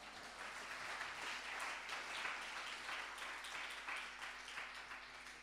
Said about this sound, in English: Go ahead and give the Lord a hand clap